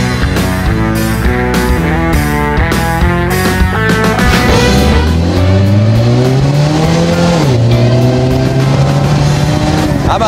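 A Wikispeed SGT01 gas-powered car, a 100 MPG prototype, accelerates hard from 0 to 60, its engine note climbing steadily in pitch and loud and close, with busy tonal sound layered over the early part.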